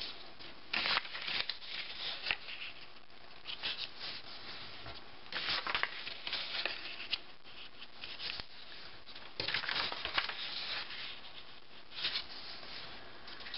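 Origami paper is opened out and its four corners folded in for a scrapbook mini album, giving soft rustles, creases and rubbing in uneven bursts, close and quiet with no talk.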